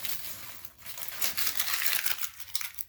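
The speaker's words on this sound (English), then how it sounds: "as we remove the tape, if you can start on one of the ends and slowly, you can peel this first layer off" Masking tape peeled slowly from a painted baseboard beside carpet, giving a continuous close crinkling, tearing rasp that swells and fades over a few seconds with no talking.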